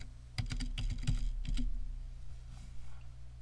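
Fingers tap out a quick burst of keystrokes on a computer keyboard while entering text in MS Word, close and crisp, then the clicking stops and a faint room hum remains.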